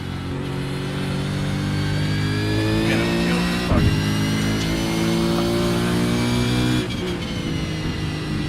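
A Chevy V8 race car engine runs at sustained throttle in a racing game at Imola, a loud, rich harmonic drone with slight pitch shifts and a short gearshift blip midway, holding steady to the end.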